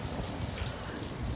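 Rain falling at a hotel in Miami, a steady, soft hiss of drops on surfaces with no voices, quiet and continuous.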